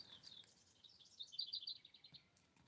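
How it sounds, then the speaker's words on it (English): Small birds chirp outside a window on a warm day, a faint, thin run of high twittering notes that swells briefly mid-way over quiet room tone. "Birds are chirping outside the window."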